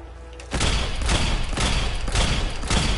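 Rapid bursts of hunting rifle fire in a video game, loud and dense, with several sharp shots overlapping into a steady barrage after a brief quiet start.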